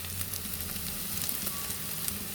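Onions sizzle steadily in a hot pan, a dense close crackle with small pops and occasional stirring, no voices over it.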